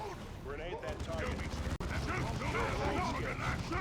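Gunfire and a grenade blast crackle through a Dawn of War 2 battle in the Retake the Hamlet mission, a dense, continuous wash of shots and explosions with unit voice lines mixed over the clamor.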